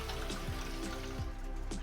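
Cold running water pours over boiled noodles in a strainer, a steady close splashing trickle with faint drips, no voices.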